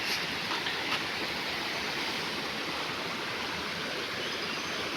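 Stream water from Meenmutty waterfall rushes in a steady, loud, unbroken wash that holds level throughout, with no voices.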